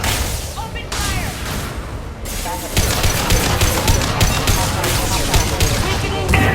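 Sustained gunfire and combat noise in the sci-fi shooter Mass Effect 2, dense bursts and booms running continuously with shouted voices mixed in.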